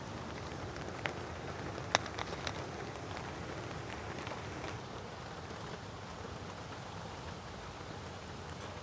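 Heavy storm rain drums steadily on a tarp at a creekside campsite, a dense, unbroken wash with a few sharper drop taps early on and no voices.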